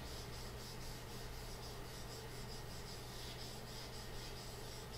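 A single-bevel reed knife for oboe and bassoon reeds is worked flat back and forth on a diamond sharpening stone, giving a soft, even, rhythmic rasp that is faint and close.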